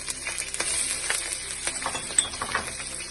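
Curry leaves, green chili and garlic sauté in a hot pan in a Chennai home kitchen, a steady close sizzle with light stirring scrapes and small clinks throughout, with no voices.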